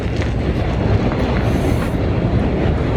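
A train passes by with a loud, steady rumble and rush of wind, continuous throughout and close to the microphone.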